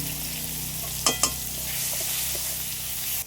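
Potatoes, chopped tomato and turmeric frying together in a pan, a constant close sizzle with two quick sharp scraping clacks of stirring in the middle, then a few softer taps.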